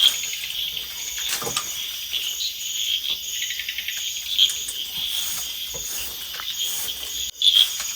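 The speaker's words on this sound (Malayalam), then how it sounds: "കിളികളുടെ സൗണ്ടായാലും മൊത്തത്തിൽ നല്ല തവളയുടെ കരച്ചിലൊക്കെ" Birds and frogs calling outdoors form a dense, steady chorus of shrill trilling, broken now and then by sharper chirps, with no voices.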